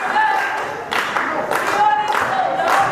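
A wrestling crowd at a UK Wrestling show claps and cheers for a newcomer in the ring. The applause is loud and continuous with surging waves, and a commentator talks over it.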